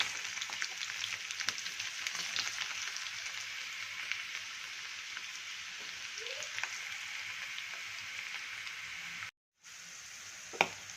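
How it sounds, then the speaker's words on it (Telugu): Bitter gourd slices deep frying in hot oil, a dense steady crackling sizzle close by, continuous throughout with a brief cut near the end, no talking. "ఆయిల్ వేడైన తర్వాత ముందుగా కట్ చేసి ఆరబెట్టుకున్న కాకరకాయలను అయితే కొన్ని కొన్నిగా వేసుకొని డీప్ ఫ్రై చేసుకోవాలి"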